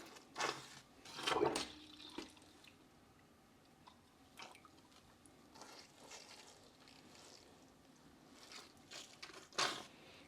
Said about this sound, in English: using my handy little waterer here, give everything a nice water.